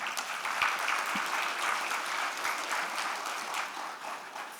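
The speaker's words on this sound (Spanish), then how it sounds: "Lo recibimos con un fuerte aplauso." Warm audience applause welcoming a panel speaker at a climate finance and risk management forum: continuous, even clapping from a sizeable crowd, fairly steady in loudness, no voices.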